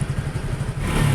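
Hero HF Deluxe BS6 motorcycle engine held at steady revs, a close, loud low throbbing drone that rises slightly toward the end.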